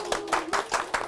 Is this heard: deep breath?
no